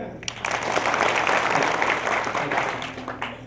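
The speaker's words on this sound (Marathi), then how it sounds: "टाळी वाजवून" Audience applause at a Marathi kirtan performance, a dense wash of many hands clapping that swells and holds steady for a few seconds, with some murmured voices mixed in.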